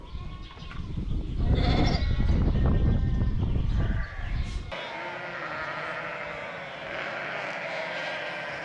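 Sheep and lambs bleat loudly over a heavy low rumble, which cuts out abruptly and leaves a quieter, steady background.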